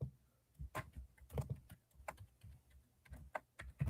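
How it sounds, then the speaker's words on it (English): Quiet typing on a computer keyboard comes as irregular clusters of soft clicks and taps at close range, with small pauses between bursts and no one talking. "Hey, I'm typing."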